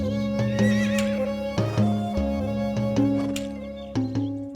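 A horse neighs loudly and close in a Hindi TV drama, long whinnying calls with harmonic tone, several bursts across the stretch with faint hoof clip-clop.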